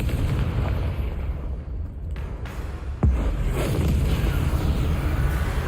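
Bombarda and Confringo spells detonate in Hogwarts Legacy, with loud booming blasts over rumbling game ambience, including a sharp burst about halfway through followed by a sustained roar.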